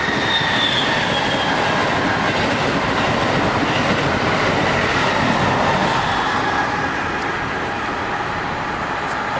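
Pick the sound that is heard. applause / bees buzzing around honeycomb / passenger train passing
passenger train passing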